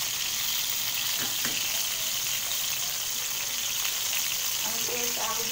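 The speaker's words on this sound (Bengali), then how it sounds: "এখানে আমি পেঁয়াজ দিয়ে দিচ্ছি," Onions hit hot oil in a pan while a chicken roast is being cooked, a loud steady sizzle and crackle that continues throughout with faint stirring.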